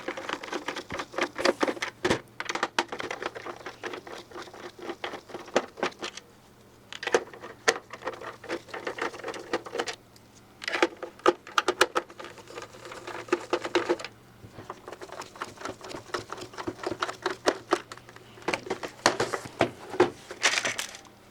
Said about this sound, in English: There are 5 screws that you need to undo to open up this console.